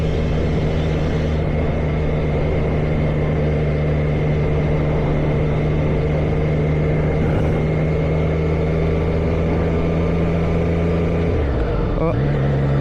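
A motorcycle rolls along slowly with a steady, low engine drone held throughout, then the revs drop and fall away near the end.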